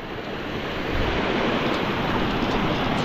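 Floodwater rushes through a rice field after a typhoon, a loud, continuous roaring torrent with wind buffeting the microphone and no voices.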